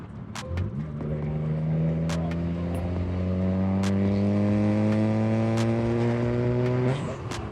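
A BMW N54 engine in a 135 revs up steadily, its pitch climbing in smooth rising harmonics for several seconds before cutting off sharply; loud and close, no talking.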